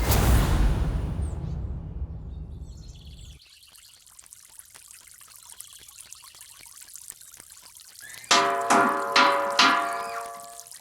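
Water pours from a household supply tap in a home, a strong gushing flow at first that soon stops, then quieter trickling and clatter, with a few loud knocks near the end.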